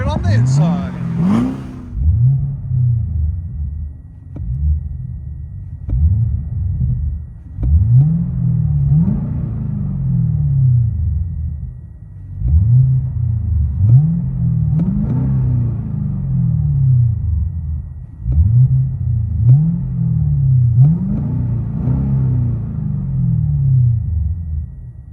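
Cabin view of a 2012 Cadillac CTS-V's supercharged 6.2L V8 with Carven TR-Series exhaust, giving a series of short, muffled throttle blips over a steady low idle drone, heard from inside the car.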